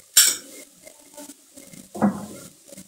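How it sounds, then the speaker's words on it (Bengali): Kochu (taro) curry stirred in a pan, a spoon clattering sharply against the metal twice with quieter scraping and stirring in between, close by. "এবারে এটা সমানে কষতে থাকবে।"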